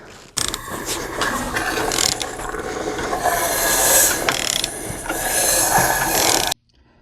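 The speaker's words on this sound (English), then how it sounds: "We'll actually grab the pry bar and spin it over a few times just to confirm that." An Oldsmobile 307 small-block V8 under teardown is turned over by hand with a pry bar, giving a continuous close metallic ratcheting and grinding that stops abruptly.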